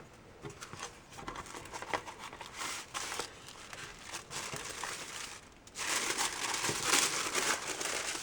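Paper crinkles and crackles up close as an envelope from a coin and currency subscription box is opened, in irregular bursts that grow louder and denser near the end, with no talk.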